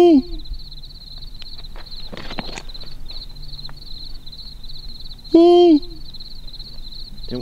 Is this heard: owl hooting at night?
yes